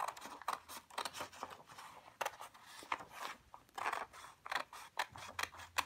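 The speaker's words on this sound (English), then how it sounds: "Now I'm gonna cut it in half" Scissors snip through paper being cut in half for a blue morpho butterfly craft, a series of crisp, irregular close-up cuts and crunches with small pauses between strokes, no one speaking.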